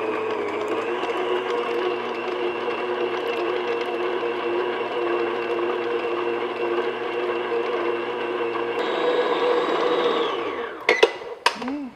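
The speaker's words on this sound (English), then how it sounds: "in the mixer bowl, put 1/2 cup, that's 113 grams of butter, that's at room temperature. And I'm just going to beat that until it's nice and creamy and smooth" An electric mixer beats room-temperature butter in a mixing bowl, a steady close whir that holds for about nine seconds before shifting pitch and winding down, then a few sharp knocks; no talking.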